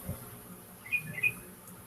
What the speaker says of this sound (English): How loud is that bird? Can you all hear it pretty good?